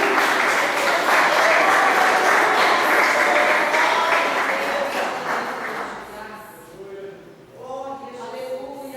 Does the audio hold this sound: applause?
yes